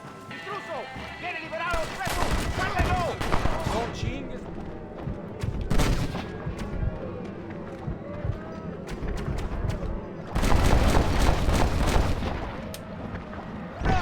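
Rapid bursts of gunfire and heavy booms in the Western shooter Red Dead Redemption, loud and dense in two main volleys with scattered single shots between, a voice speaking over the action.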